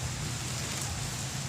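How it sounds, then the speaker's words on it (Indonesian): Heavy rain falling outside a house, a steady, even hiss of downpour with no break and no voices. "semakin deras hujannya"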